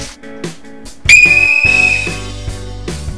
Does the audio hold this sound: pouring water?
no